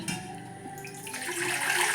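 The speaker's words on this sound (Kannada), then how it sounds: "ಸ್ವಲ್ಪ ನೀರು ಹಾಕ್ತಾಯಿದ್ದೀನಿ" Water splashes and runs into a small pot for cooking finger millet, building to a steady rushing pour in the second half.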